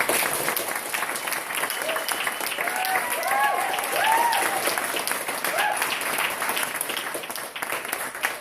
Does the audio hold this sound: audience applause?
yes